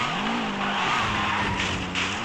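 Car drifting in Car Simulator 2, its tires squealing in a loud sustained screech over the straining engine, with the pitch sliding as the car slips sideways.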